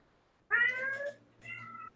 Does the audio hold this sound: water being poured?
no